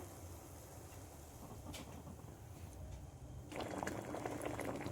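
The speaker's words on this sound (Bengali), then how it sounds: "ওদিকে আমার জল ফুটছে" Water bubbling in a pot with prawn parcels wrapped in leaves, a low soft simmer that swells into a livelier rolling boil near the end, no voices.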